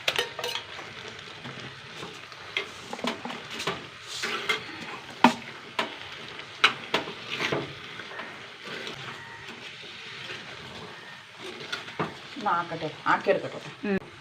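Ground cumin and coconut paste dropped into a sizzling Kerala Onam curry with jaggery, giving steady frying hiss broken by repeated sharp clinks and scrapes of a spoon against the pan, close by.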